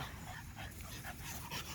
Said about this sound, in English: They're really friendly, good looking dogs.